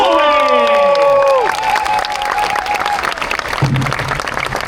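A crowd at a night music contest in Mexico claps and cheers for the winning band, a broad wash of applause and shouts that follows a fading sustained musical chord, with some faint voices.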